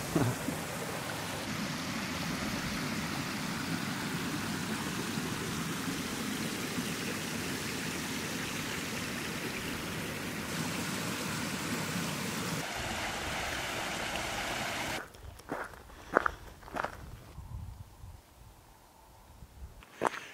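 A beck in the Yorkshire Dales rushes steadily, a loud continuous wash of flowing water filling the first fifteen seconds before giving way to quieter, uneven outdoor sounds.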